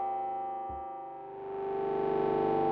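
A sustained, eerie Predator-3 synthesizer tone with a distorted, wavering, tape-like texture, swelling slightly and smearing into echoing feedback layers.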